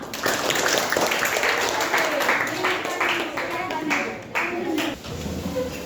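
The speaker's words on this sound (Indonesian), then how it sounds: "Tepuk tangan untuk kelompok 6." Applause and clapping from a group during a school academic supervision session fills the room, steady and fairly loud, with voices talking underneath.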